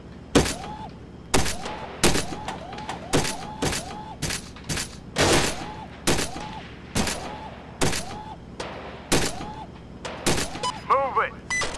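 Pistol shots in the VR shooting game Gun Club VR crack out in a steady, rapid series of about a dozen sharp reports, each followed by a short ringing tone, over a low background hum.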